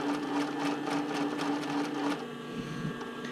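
A domestic sewing machine stitches bra cup fabric with basting stitches, a steady close whirring run with rapid needle clatter that slows and stops near the end.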